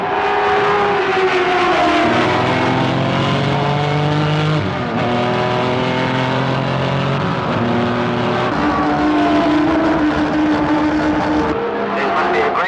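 Race cars tear into the first bend of a 1960s race, engines roaring loud and close with rising and falling revs as they pass, an announcer talking over the din throughout.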